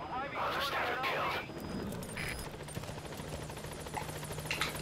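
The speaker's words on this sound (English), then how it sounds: "I'll send the extraction chopper." Extraction helicopter from Metal Gear Solid V, its rotor wash a steady broadband roar that swells early and then settles under game dialogue and effects.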